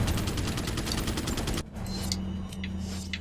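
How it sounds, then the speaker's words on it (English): Rapid pistol gunfire in Resident Evil 4, a fast volley of loud shots for about a second and a half, then a quieter stretch with a few scattered clicks and thuds. "Pistol again."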